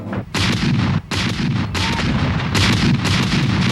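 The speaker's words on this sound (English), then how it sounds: "the Confederates opened fire with their cannons focused on the center of the Union defenses at Cemetery Ridge" Confederate cannons fire on the Union center at Cemetery Ridge at Gettysburg in a dense artillery barrage: heavy booms and blasts overlap almost without pause, loud and close, with no speech heard.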